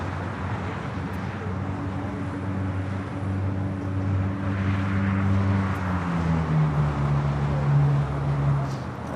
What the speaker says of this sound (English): We do have that Hawaiian Dreamliner rolling down to 25 right here on the south side.